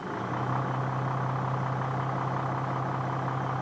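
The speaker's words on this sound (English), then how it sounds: "Now start the engine and check to see whether the engine revs freely or labours." The engine of a Leyland Olympian bus with a semi-automatic hydracyclic gearbox runs at a steady, loud, low idle, a continuous rumbling hum with no change in pitch.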